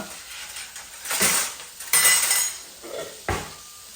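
Tomato, onion and chili being stirred in a cooking pot over hot oil, with a few loud metallic scrapes and clanks of the utensil against the pot separated by quieter pauses.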